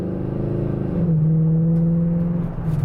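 A cammed, tuned 2015 fifth-generation Camaro SS engine rumbles deep and close. It rises briefly into a steady drone, then settles, with no talking.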